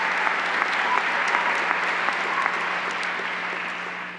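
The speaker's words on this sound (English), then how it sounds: "Let's give them a big round of applause" Steady, dense applause from a large audience at a university commencement ceremony, sustained for the whole stretch at an even loudness with no voices over it.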